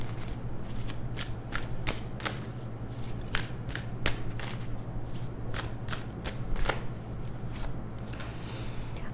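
A tarot deck is shuffled repeatedly in quick, crisp riffles and bridges, each burst sharp and close. A steady low hum sits underneath, and no one speaks.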